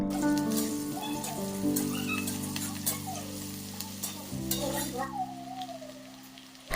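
Onions and halved dried red chillies fry in oil with a steady, soft crackling sizzle and occasional stirring scrapes, close and moderately quiet, with faint background sounds but no clear speech.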